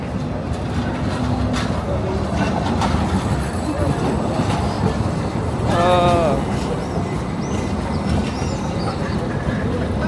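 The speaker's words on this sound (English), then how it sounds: "The tram is coming" A rumbling tram rolls into a station in Tunisia with rattling and clacking, a brief squeal of brakes, and faint voices under the noise.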